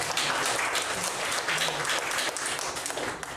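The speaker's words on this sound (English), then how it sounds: "Give a round of applause." An audience at a panel discussion gives a round of applause: dense, continuous clapping from many hands, fairly distant and even in level throughout.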